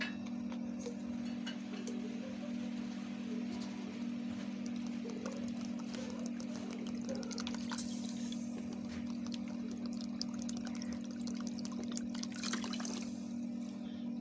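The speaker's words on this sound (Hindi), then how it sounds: "अब मैं इसी कप के साथ पानी ऐड करूंगी" Water poured from a cup into a pan of sugar for sweet syrup in a home kitchen, a soft steady trickle with faint ticking, quiet over a constant background hum.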